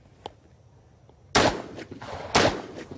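Gunfire at a 3-gun shooting competition at an armory range, two loud sharp reports about a second apart with ringing decay, preceded by faint pops and quiet background.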